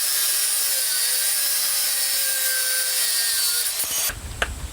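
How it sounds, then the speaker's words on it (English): A steady, high-pitched grinding whine of an angle grinder's thin metal cutting disc cutting steel rebar, running continuously and close, then cutting off abruptly near the end. "I've just been using a thin metal cutting disc on the grinder to cut this Rio bar up"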